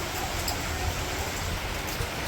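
Sudden heavy rain pours down around a house, a steady dense hiss of falling water filling the whole stretch evenly with no voices.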